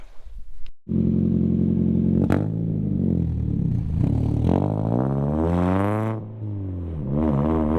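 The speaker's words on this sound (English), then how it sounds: "We're gonna test fit her in there and go take it for a quick test spin." A Mazda NA Miata fitted with a cheap aftermarket Temu muffler drives on a short test run, its exhaust droning loudly and steadily with rising and falling revs as it accelerates and shifts.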